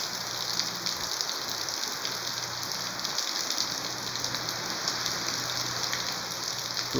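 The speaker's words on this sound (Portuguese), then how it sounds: "dá uma chuvada boa agora aqui" Heavy rain pours steadily in rural Pernambuco, Brazil, a dense, continuous hiss of drops on surfaces holding even from start to finish with no voices.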